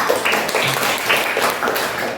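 Students in a classroom clap for a classmate during a biology lesson, a short, scattered round of hand claps lasting about two seconds.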